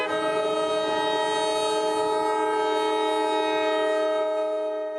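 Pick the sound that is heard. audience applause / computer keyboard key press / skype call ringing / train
train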